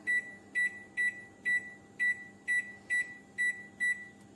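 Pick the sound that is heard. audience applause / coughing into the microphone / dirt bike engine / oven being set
oven being set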